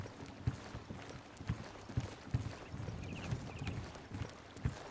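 Horse hooves clip-clop at a steady walking rhythm in the video game Oblivion, fairly quiet and even, with no talking over them.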